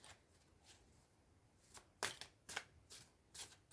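Tarot cards being riffled and shuffled close by, with several crisp, fluttering bursts that grow louder and more frequent.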